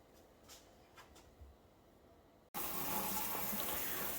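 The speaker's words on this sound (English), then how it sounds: "we're going ahead and just spraying it down with some cold water to cool it down" Cold water sprays hard into a sink to cool boiled corn, bursting on suddenly as a loud, steady broadband rush after a quieter stretch of faint handling clatter.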